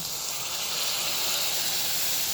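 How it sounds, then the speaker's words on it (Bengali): A spice paste of chili powder and turmeric hits hot oil in a pan with fried tomato, giving a loud, steady, close hiss of sizzling that holds unbroken, with no talk. "টমেটোটা ভাজা হয়ে গেছে দিয়ে দিচ্ছি ওই গুলে রাখা মশলাটা"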